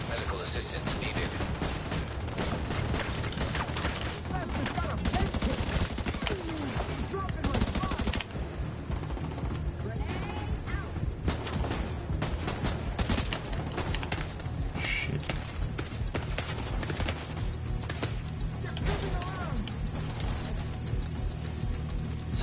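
Rapid gunfire from a weak weapon in The Division 2 rattles in dense bursts through most of the stretch, loud and continuous with shifting combat noise and a voice talking underneath.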